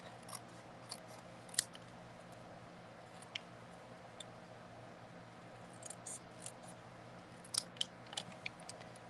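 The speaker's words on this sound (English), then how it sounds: "I'm going to fussy cut this." Small scissors fussy cutting around a stamped paper sentiment, making faint, sparse snips and crisp clicks spread irregularly over a quiet background hum.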